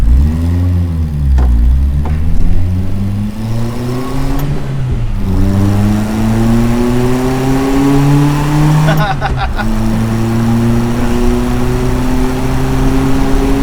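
A supercharged Subaru Sambar kei truck engine climbs through revs while driving, winding up in long rising sweeps with brief drops at gear changes, loud and close from inside the cab, with occasional talk over it.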